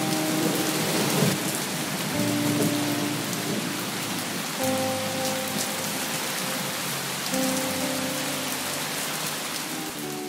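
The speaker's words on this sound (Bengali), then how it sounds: "বাইরে আবার হালকা বৃষ্টি পড়তে শুরু করল" Steady light rain falls throughout, with a soft low rumble of thunder, under quiet sustained musical tones.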